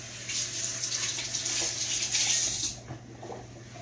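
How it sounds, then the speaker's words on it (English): Hands are rinsed under a running kitchen tap, a steady close hiss of flowing water that lasts under three seconds and then cuts off, leaving faint room noise. "Let me rinse my hands off."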